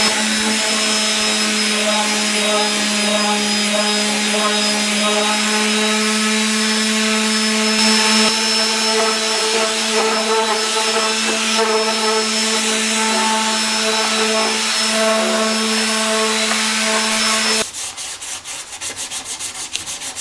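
A power sander grinds across a plastic ABS motorcycle fairing on a Honda Sabre cafe racer project, a loud, steady droning whir with a humming tone that cuts off abruptly near the end, leaving quieter rough scraping.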